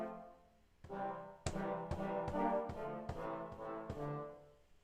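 A musical sample with a series of sharp plucked or struck tonal hits run through a corridor reverb, each note ringing out into a smooth reverberant tail; moderately loud, rhythmic, with no talking.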